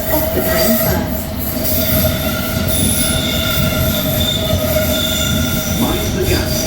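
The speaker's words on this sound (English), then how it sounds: "Please stand behind the yellow line as the train approaches." A London Underground District line train arriving at a platform, its wheels squealing loudly and continuously over the rumble of the carriages, close by.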